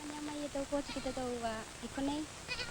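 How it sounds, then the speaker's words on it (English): Goats on an island in Tuvalu bleat in several short, wavering calls, close and fairly quiet against a low background. "I went to have a look at the goats"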